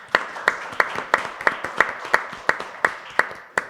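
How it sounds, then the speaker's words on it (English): Steady rhythmic clapping at the close of an AI in finance panel at a summit, with sharp, evenly spaced claps about three per second over a soft background of crowd noise. "How about another round of applause to all of you for coming,"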